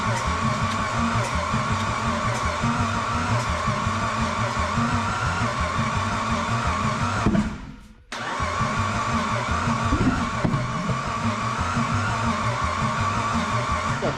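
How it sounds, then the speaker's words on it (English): Mitsubishi Pajero turbo engine with new forged internals cranking over on the starter with spark plugs cleaned and injectors disconnected, a steady loud rhythmic churn that drops out briefly midway, then resumes. "spin the car over to burn off any unburnt fuel"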